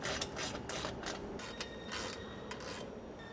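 A hand ratchet clicking as bolts are tightened on an exterior molle panel mounted to an Ineos Grenadier, close rasping strokes in quick repeated bursts with short pauses, quiet and alone.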